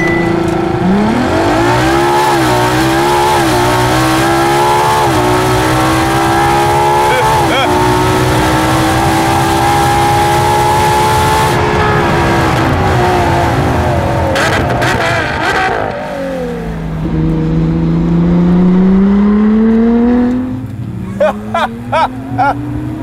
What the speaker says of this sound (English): Here's how you do a launch control run in a Ferrari LaFerrari.